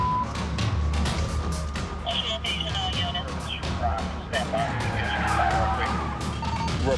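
Car tires skid and squeal loudly during a police chase at night, with engine noise and road rumble filling the background and brief screeching bursts over the steady drone.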